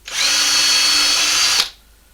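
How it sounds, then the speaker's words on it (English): A power drill with a small 3/32 inch bit bores an indexing hole in wood, one continuous high whine lasting about a second and a half before stopping abruptly, close and loud. "Now we're going to drill as vertically as possible"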